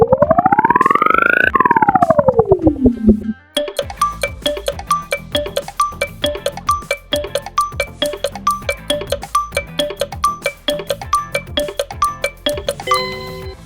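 Pepsi brand logo sound: a loud rising-and-falling synth sweep opens, then a quick, bright rhythmic run of chiming electronic hits and clicks carries on to the end, with no talking.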